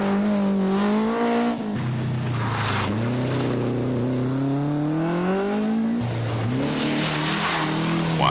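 A rally car on an icy stage of the 1983 Boucles de Spa Rally in Belgium drives past with a loud, rising and falling engine howl and abrupt gear changes, heard close and steady throughout.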